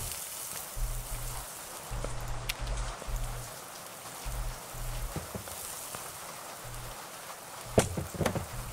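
Soft, steady rainfall patters in the background of an indie horror video game while a low, chunky synthesized tone pulses on and off, ending with a few sharp clicks.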